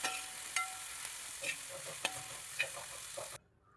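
Onion, curry leaves and crushed ginger-garlic sauté in hot oil for a Kerala-style ash gourd chicken curry, a steady soft sizzle broken by a few sharp spoon scrapes and stirs, close and alone until it cuts off near the end.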